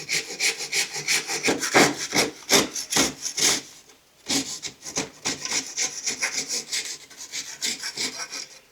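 Handsaw cuts through the end of a handlebar grip tube on a Surron Ultra Bee electric motorbike, quick rhythmic back-and-forth strokes, close and loud, with a brief pause midway before sawing resumes.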